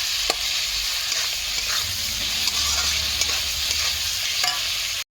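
Continuous loud sizzling from a frying pan, with scattered scraping clicks of stirring throughout.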